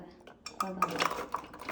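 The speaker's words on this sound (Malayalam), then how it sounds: "നമുക്ക് ഗ്യാസ് എത്തിക്കാം കുക്കർ വെക്കാം" A metal pressure cooker is set down on a gas stove in a home kitchen, giving a few close, sharp clanks and scrapes of metal against the burner grate. A voice is faintly audible underneath.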